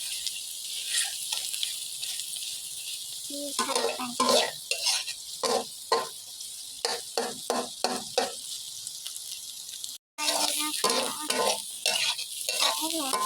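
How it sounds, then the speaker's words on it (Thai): Eggs being stir-fried in a pan for fried rice with fermented pork sausage: a steady close sizzle runs throughout, broken by a rhythmic series of spatula scrapes and stirring strokes, with a brief cut near the end. "แล้วก็ผัดไข่ให้สุกนะคะ"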